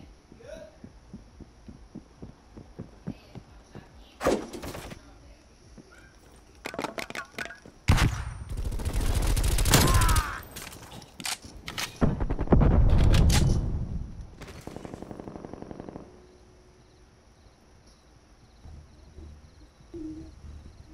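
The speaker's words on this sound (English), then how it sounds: "Hostile sentry turret active." Sentry turret gunfire in a video game: loud, dense bursts of fire cluster in the middle of the clip over quieter scattered game effects, then fade back down.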